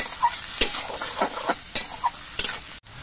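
Grated onions fry in oil with cumin, giving a soft sizzle broken by several quick scraping stirs of a spatula against the pan.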